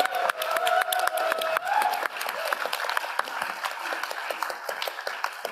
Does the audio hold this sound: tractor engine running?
no